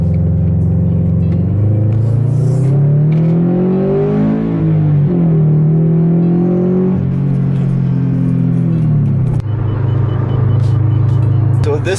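A Subaru BRZ sports car accelerates quickly, its engine note climbing through the revs and dropping at an upshift before pulling hard again, loud and close from inside the cabin.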